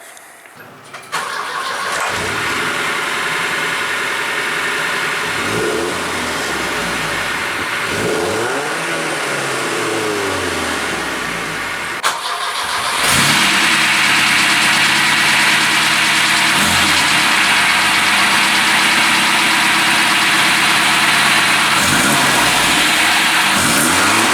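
A Volvo with an IPD exhaust upgrade rumbles at idle, with several rising and falling revs, then a second, louder run of idling and revving.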